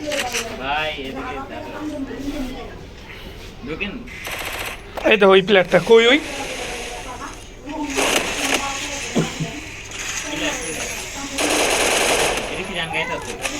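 Gunfire in the mobile battle royale game Free Fire: rapid automatic bursts and single shots in several clusters, loud and close, alongside a player talking excitedly over the game audio.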